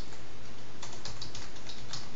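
Steady, quick keystrokes on a computer keyboard while typing code, close and clear in a quiet room.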